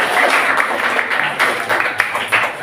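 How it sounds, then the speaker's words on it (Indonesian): An audience in a classroom teaching session claps together, a dense, steady patter of many hands that keeps up throughout with slight swells. "kita tepuk tangan dulu semuanya."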